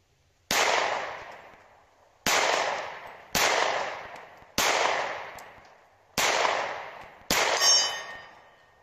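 Six loud sharp reports from an HK P2000 pistol in .40 S&W fired at 50 yards outdoors, each crack followed by a ringing decay, spaced about one to two seconds apart.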